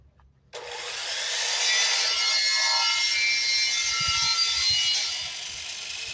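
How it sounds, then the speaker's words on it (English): Grinding the wood of a carved jungle table during polishing: after a short quiet start, a loud, steady abrasive whirring rasp kicks in and holds evenly, with faint scraping underneath and no talking. "let me grind it out too"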